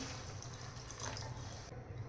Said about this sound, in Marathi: इथे मी 1 ग्लास भरून गरम पाणी ॲड करणार आहे